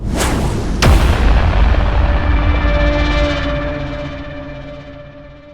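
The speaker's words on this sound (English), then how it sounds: "You exploded every photon torpedo on the Enterprise remotely." Photon torpedoes explode aboard the starship Enterprise in a Star Trek audio drama: two sharp, loud blasts in quick succession swell into a long rumbling roar that slowly fades.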